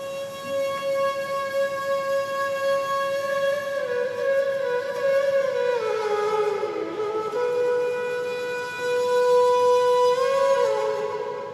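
Two layered bansuri flutes, the original and an octave-up duplicate with fast auto-pan, play a loud, sustained, gliding melody with smooth pitch bends and no voices.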